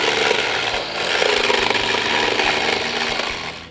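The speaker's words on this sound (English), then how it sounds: "He'll go through and scarify the surface to make it so the epoxy will do better at bonding." Concrete floor being scarified with a power tool ahead of epoxy bonding for a precast safe room shelter, a steady loud grinding abrasion running throughout with a brief dip near the start.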